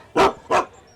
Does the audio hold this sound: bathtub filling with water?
no